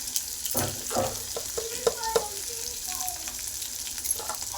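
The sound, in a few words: stirring and sautéing egg bhurji in a pan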